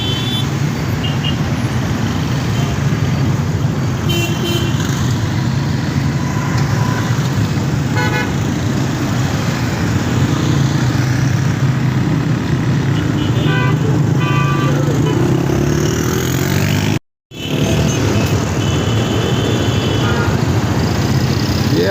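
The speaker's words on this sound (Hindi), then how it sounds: "ये सामने ट्रैफिक गोल चक्कर में इंटर होने से पहले यू टर्न लेकर वापस जा रही है" Road traffic rumbles at a roundabout as vehicles turn back before entering it. Engines hum steadily with a few horn toots, and a brief dropout falls near the end.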